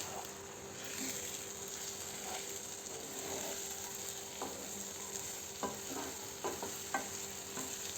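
Egg bhurji being stirred in a pan after the lid comes off: a steady low sizzle with clustered scraping and tapping of the spoon against the metal pan, growing busier in the second half.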